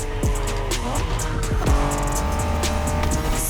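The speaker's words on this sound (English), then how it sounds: "Are you familiar with the Honda you're driving?" Honda NSX sports car from the 1990s driven in the racing game The Crew Motorfest: a steady engine drone with shifting revs, brief swooping pitch sweeps and tire noise, loud and continuous throughout.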